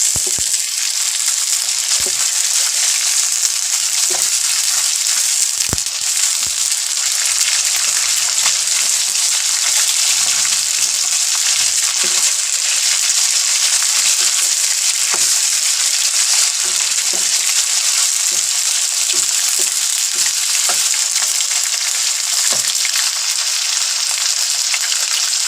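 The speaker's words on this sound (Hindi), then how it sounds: "एक से 2 मिनट तक गोश्त को अच्छी तरह भून लेंगे।" Mutton frying in a hot pan sizzles and crackles steadily, a continuous loud frying hiss with occasional pops and stirring sounds.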